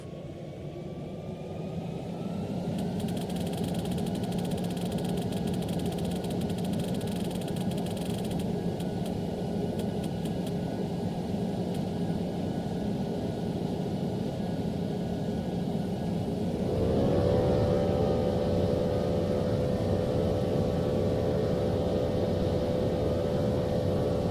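Boeing 737-800 jet engines spooling up to takeoff thrust in Roblox Project Flight, a loud steady broadband roar throughout, rising in pitch and intensity partway through as the throttle advances to full, with no talking.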